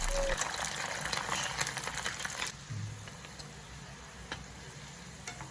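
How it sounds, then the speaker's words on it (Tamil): Marinated chicken pieces frying in hot oil in a pan for a Dragon Chicken recipe, a close, steady crackling sizzle with dense fine popping that eases slightly partway through. "எண்ணெய் நல்லா சூடானதுக்கு அப்புறமா நம்ம ஊற வச்ச சிக்கனை ஒவ்வொரு பீஸாக ஒவ்வொன்றா போட்டு"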